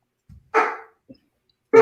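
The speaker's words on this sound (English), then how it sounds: "And the dog is just being a dog." A dog indoors giving a few short barks: a faint low woof, then a louder bark, a tiny yip, and another sharp bark at the end, close and separated by silence.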